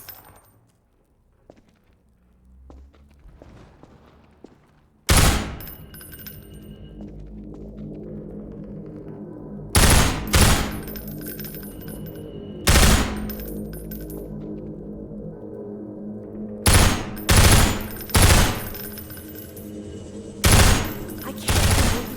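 Machine gun fire from enemy gunners in the Half-Life 2: Episode One video game, arriving as several loud, sharp bursts, some in quick pairs, separated by a low rumbling hum after a quiet opening.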